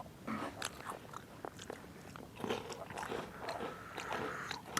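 Someone nearby chews crunchy snacks at a night campsite on a hill, producing quiet, irregular crunching bites throughout with no talking.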